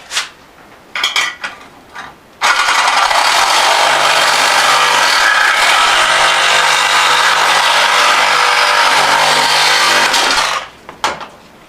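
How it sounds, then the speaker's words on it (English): A Sawzall reciprocating saw cutting during a Lambo drift car build roars loud and continuous for about eight seconds, framed by scattered knocks and handling noises before and after. "Sawzall, baby."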